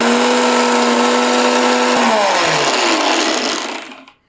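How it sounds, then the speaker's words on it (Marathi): A mixer grinder with a small chutney jar grinds spiced betel nut mukhwas, a loud steady motor whine that winds down after about two seconds and fades to silence. "हा पुन्हा एकदा मिक्सरला दळून घेऊयात"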